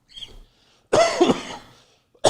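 A man coughs hard in a short fit on a live broadcast, one small cough followed by a loud burst of several harsh coughs, then another begins; close and clear with no talk over it.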